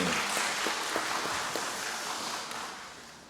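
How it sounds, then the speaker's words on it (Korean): A church congregation at a monthly prayer service claps together in praise, a moderate wash of applause with a few sharper individual claps that slowly fades away. "영광의 박수를 올려드리겠습니다"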